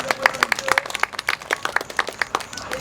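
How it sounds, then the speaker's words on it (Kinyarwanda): An audience at a competition awards ceremony claps in a brisk, moderately close round of applause, the sharp individual hand claps clearly separated and rhythmic. "amashyi abantu"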